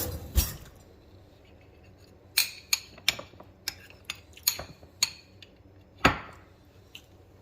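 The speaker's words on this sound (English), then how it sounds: "let me get a spoon here" A metal spoon clinks against a pot of cooked-down gravy, with about a dozen sharp, close taps spread unevenly, one loud knock near the start and another near the end, and no talking.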